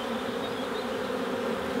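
Honeybees hum in a dense, steady drone from an open hive during an inspection, the buzzing close and unbroken throughout.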